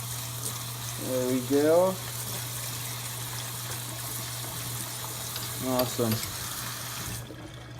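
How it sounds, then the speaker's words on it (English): Tap water gushes in a steady hiss while cooked pasta is rinsed in a strainer, with a person speaking briefly over the running water before it cuts off. "So now, you gotta rinse it out here."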